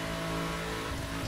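Car engine in the racing game The Crew, revved far past its limit during a summit run, a loud continuous high-pitched motor whine with steady harmonics that holds throughout.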